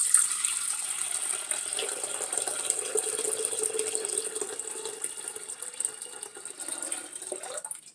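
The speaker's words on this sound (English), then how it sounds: "I have to put water in the pitcher first" Filtered water runs steadily from a tap into a pitcher for about eight seconds, a close, continuous hiss and splash with a bright upper sheen, cutting off abruptly at the end.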